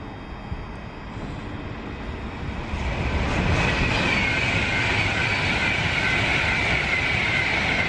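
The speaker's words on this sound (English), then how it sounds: "coming up on platform 6, you've got an Avanti, which is going straight through" An Avanti passenger train runs straight through a station on platform 6 without stopping, a broad, steady rumble that swells after a few seconds and holds loud and close to the end.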